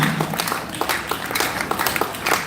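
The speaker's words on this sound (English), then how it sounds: "Please, a round of applause for Dr." Audience applause at a real estate panel session as panelists are welcomed, a dense steady patter of many hands clapping throughout at moderate level, heard from within the room.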